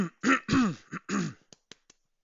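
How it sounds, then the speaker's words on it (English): A man clears his throat in a series of rough, guttural rasps, three or four strong pushes followed by a few small clicks fading out, close and alone. "I need to make sure I clear my throat"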